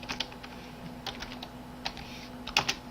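Keys clack on a computer keyboard while coding in JavaScript, a few scattered light taps with one quick double press near the end, close and fairly quiet with no talking.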